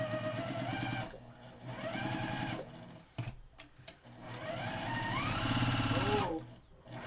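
A sewing machine quilting a small quilt block: a steady, close motor whir with rapid needle stitching that runs in long stretches, pausing briefly in the middle before starting up again.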